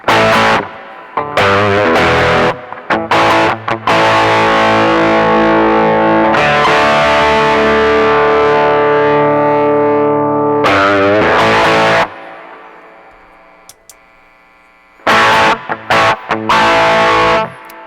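An electric guitar played through a Brothers AM gain pedal with the dull side of the boost engaged gives loud, saturated distorted chords and sustained notes with sharp breaks and a quieter noisy tail, no talking.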